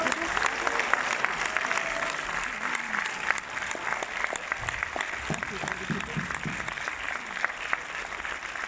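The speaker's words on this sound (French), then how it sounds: "Et un tonnerre d'applaudissements à Monsieur José Garcia." A cinema audience at a film premiere in Orléans claps steadily and loudly throughout, a dense wash of applause with a few voices calling out beneath it.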